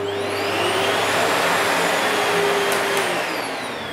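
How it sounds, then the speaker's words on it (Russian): A household vacuum cleaner runs at close range, a loud, steady whine and roar that holds level throughout with no speech over it. "Все пылесосы шумят."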